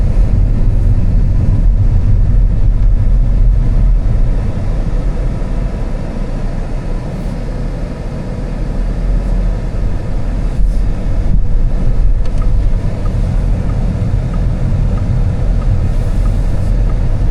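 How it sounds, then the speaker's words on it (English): Steady low rumble of road noise inside a moving new MINI Cooper, a constant droning roar with occasional small bumps and no talking. "Lots of road noise coming in."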